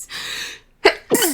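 A woman sneezes after a short buildup: an airy inhale fades out, then after a brief pause a sharp, close, forceful sneeze bursts out followed by a second quick vocal release.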